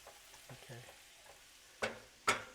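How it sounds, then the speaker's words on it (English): A lemon garlic sauce sautéing in a pan on very low heat, soft faint stirring scrapes and then two sharper clacks of a utensil against the pan. "I'm going to go ahead and let that saute a little bit, just like that, on a very low heat"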